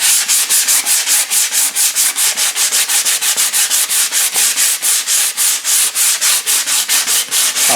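A wooden axe handle is sanded with coarse 100 grit sandpaper in quick, regular back-and-forth strokes, a loud, rhythmic rasping close up and continuous throughout.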